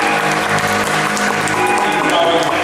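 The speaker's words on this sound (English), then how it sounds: "Start a round of applause now" A conference audience at an education teach-meet gives a loud, dense round of applause that stays even throughout, with tonal hum and indistinct voices underneath.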